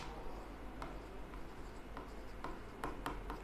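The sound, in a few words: writing organic compounds on board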